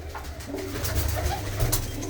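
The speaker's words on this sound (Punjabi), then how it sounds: "ਇਹਦੇ ਵਿੱਚ ਆ ਵੱਡੀਆਂ ਕਬੂਤਰੀਆਂ" Pigeons in a loft coo close by, a continuous low burbling of overlapping throaty calls with faint background movement.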